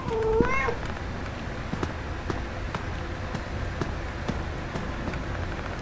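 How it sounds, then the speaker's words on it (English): A cat meows once in the video game Five Nights at Freddy's Into the Pit, a short rising-falling call near the start, followed by a steady hum of ambience with faint ticking clicks. "Hello, kitty. Meow."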